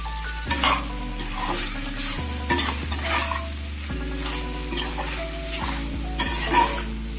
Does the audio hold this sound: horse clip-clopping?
no